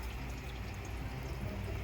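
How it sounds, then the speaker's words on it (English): Water gushes steadily from a car engine's intake after water got into the cylinders, a continuous close splashing pour with no talk over it. "Look at all that water coming out of that intake."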